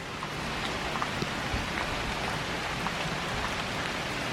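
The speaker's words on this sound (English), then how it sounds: "You can see the rain." Steady heavy rainfall from Hurricane Florence in North Carolina drums on nearby surfaces, a constant wash of drops with occasional louder splashes.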